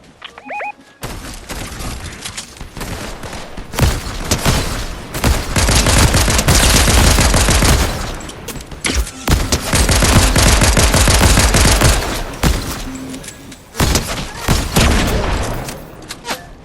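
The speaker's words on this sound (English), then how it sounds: "Why they shooting?" Fortnite gunfire, long loud bursts of rapid automatic shots with short gaps between volleys, and a player's voice briefly heard among them.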